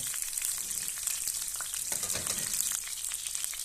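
Garlic and chili frying in hot oil, giving a dense, steady crackling sizzle that stays close and loud throughout, with faint stirring scrapes and no talking.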